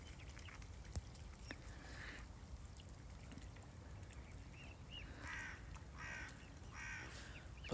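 Several birds, including ducks and crows, call now and then across a snowy lake, short nasal cries and caws rising over a steady wash of outdoor ambience and faint trickling water.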